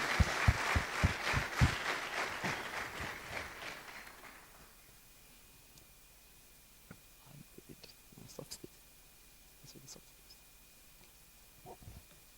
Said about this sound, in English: Stand up, we clap for you and appreciate you.